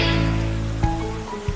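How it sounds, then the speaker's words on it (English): Rain falls steadily in a cartoon rainy-day scene, a continuous close hiss with soft tonal music running underneath throughout. "Peppa danced in small steps to the rhythm of the rain."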